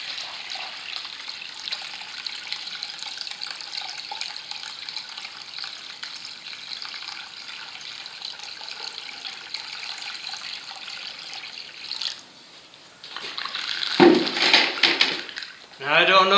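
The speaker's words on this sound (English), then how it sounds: "So here comes the water" Water poured in to prime a Honda WB20XT semi trash pump under repair, a soft trickling and hiss that continues steadily, then louder splashy pouring bursts near the end.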